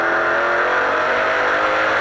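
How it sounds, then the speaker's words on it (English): Stock cars on a quarter-mile short track at Edmonton International Raceway, a NASCAR Pinty's Series race, produce a steady, loud engine roar that continues for the whole moment with no break. "It's old-school short-track stock car racing"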